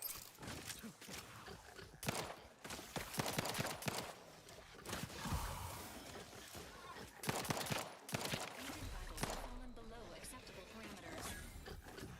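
Gunfire in a video game comes in bursts of sharp repeated shots and dense volleys, loud and close, mixed with other game effects and a voice talking at times.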